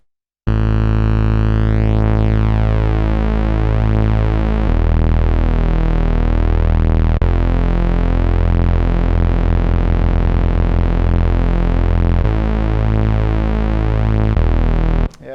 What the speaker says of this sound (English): I want to detune a bit so that it gets this nice fatness and this moving sound